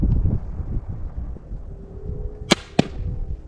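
Wind blowing outdoors at a shooting range, a low continuous rumble and buffeting against the microphone, broken by two sharp brief snaps near the end.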